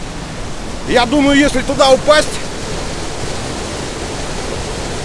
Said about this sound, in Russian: Поток воды просто сумасшедший.